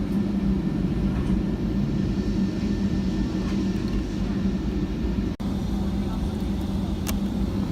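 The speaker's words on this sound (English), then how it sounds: "just taxiing and heading onto the runway" Icelandair Boeing 757-223 taxiing toward the runway at Gatwick, heard from inside the cabin as a steady, loud low engine drone and rumble that holds throughout with a brief dropout near the end.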